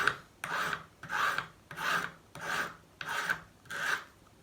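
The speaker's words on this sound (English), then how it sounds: "just get on it with our fine file" A fine jeweler's file rasps across a small metal pin in seven even strokes, each a close, scratchy rub with brief pauses between, in a slow regular rhythm with no talking.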